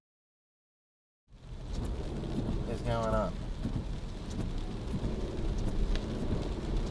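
Heavy pouring rain drums steadily on a car during a downpour, with a low rumble that could be thunder, beginning abruptly after a second of silence; someone speaks briefly over the rain.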